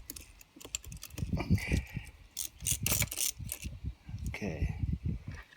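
A hand ratchet loosens the voltage regulator bolts on a 2009 Mercury 20 HP four-stroke outboard, giving close, rapid clicking bursts in an uneven rhythm with metallic taps between them.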